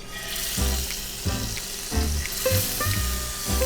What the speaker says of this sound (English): We'll go ahead and sear our fish.